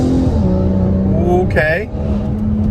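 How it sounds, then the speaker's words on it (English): A modified Volvo pulls out at wide open throttle, its engine note climbing steadily with a loud, close rumble and rising harmonics, and a brief spoken word partway through. "then I'm going to pull out and give it the full wide open throttle"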